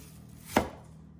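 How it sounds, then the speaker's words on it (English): A single crisp knife chop through an onion on a cutting board, close and clear, one short stroke in an otherwise quiet kitchen. "So I'm gonna finish slicing the onion"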